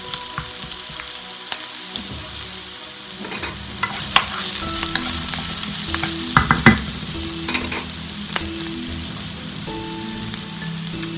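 Vegetables sautéing in a pan for a Vietnamese pork dish, a loud close sizzle with frequent stirring clatter and scrapes building through the middle, no one speaking.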